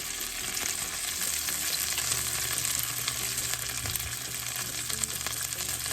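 Chicken pieces fry in a pan with a steady, dense sizzle and faint crackling pops, close and continuous throughout with no voices.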